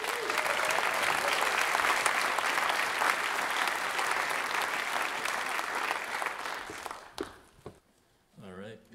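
An audience at the Martha Cohen Theatre in Calgary applauds a speaker at a PechaKucha presentation event, loud sustained clapping from a large crowd that fades out at the end, followed by a brief voice.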